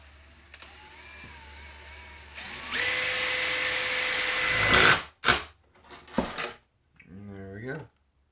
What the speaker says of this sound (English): let me go and drill this.